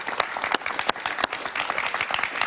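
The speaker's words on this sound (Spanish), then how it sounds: "Un aplauso para José Antonio Corillo." Studio audience applause for José Antonio Corillo on a Spanish-language talk show, a dense, steady burst of many hands clapping throughout, close and lively with no talk over it.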